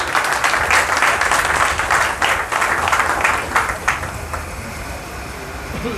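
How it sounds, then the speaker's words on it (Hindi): An audience at a political gathering applauds to welcome a candidate, a dense, loud wash of many hands clapping that fades away after about four seconds, with no talking. "मैं आपसे अनुरोध करता हूँ एक बार उनका तालियों से स्वागत कर दें दोस्तों।"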